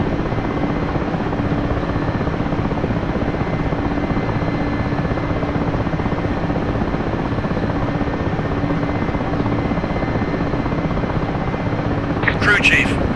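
A Mi-8MTV2 helicopter in the DCS flight simulator hovers during landing, its steady loud rotor and turbine roar constant throughout, with a brief cockpit click near the end.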